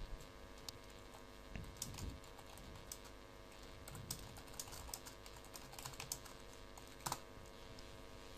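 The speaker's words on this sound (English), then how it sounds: "You can type it." Quiet, uneven tapping of fingers on a computer keyboard, soft individual keystrokes in irregular bursts with a couple of sharper clicks, no talking.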